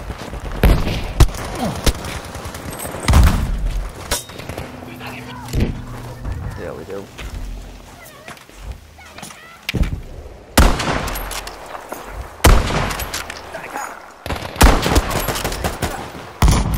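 Gunfire in Battlefield 5, with repeated loud bursts of automatic and single shots scattered through the stretch, close and sharp, amid game noise and a voice talking between shots.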